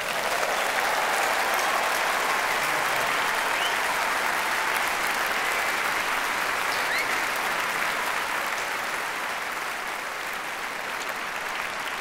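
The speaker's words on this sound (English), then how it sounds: "Now's your chance to applaud." A packed Christmas concert audience in the Royal Albert Hall applauds a Salvation Army band and songsters, a thick, sustained roar of clapping that holds steady throughout.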